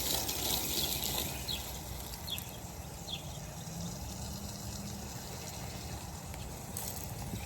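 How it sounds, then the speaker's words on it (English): Water poured from jugs onto garden plants, a faint steady splashing trickle running continuously beneath a wide outdoor background hiss. "Watering plants."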